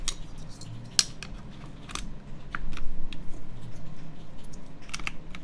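Typing on a CannonKeys Cerberus mechanical keyboard built without foam, a steady run of quick clacky keystrokes close to the microphone, growing denser toward the end, with no talk.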